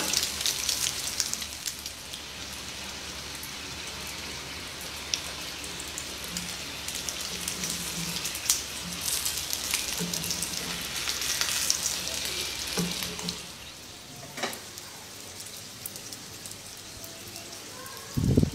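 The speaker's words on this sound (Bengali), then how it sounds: "অল্প আঁচে আস্তে আস্তে মুচমুচে করে এই মোগলাইটা আপনারা ভেজে নেবেন" Mughlai paratha frying slowly in a pan over low heat, with a steady crackling sizzle like light rain that lasts throughout, a few soft clicks near and fading slightly toward the end.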